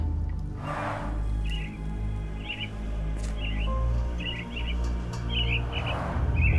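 Caged mynah birds in the Sherlock Holmes: The Awakened video game chirp in short, repeated bursts at moderate distance over a constant low ambient rumble.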